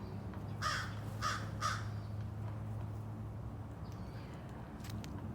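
A crow caws three times in a quick, even series, fairly close, over a steady low hum, then the air stays quiet.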